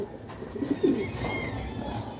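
A racing pigeon coos softly during training, a few low throaty coos near the middle of a quiet outdoor background hiss, with no talking.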